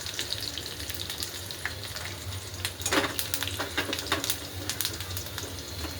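Curry leaves dropped into hot oil in a pan of frying onion for a potato dish, giving a bright crackling sizzle with sharp pops and spatter, strongest about halfway through, with no talking.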